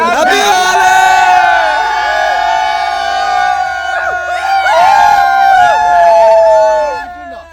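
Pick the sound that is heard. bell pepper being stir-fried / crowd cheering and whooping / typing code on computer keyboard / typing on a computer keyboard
crowd cheering and whooping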